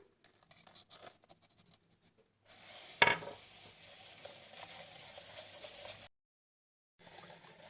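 A spoon stirs eggless chocolate cupcake batter with cocoa added, giving soft, irregular scraping and patting noises close by, then a brief silent gap before the stirring resumes, with no talking.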